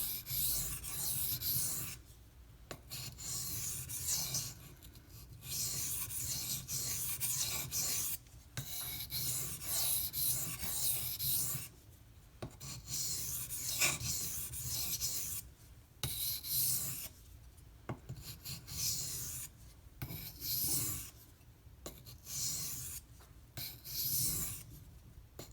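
A knife blade makes finishing passes across a Gritomatic silicon carbide sharpening stone, giving close, rhythmic scraping strokes in bursts separated by short pauses, with no talking.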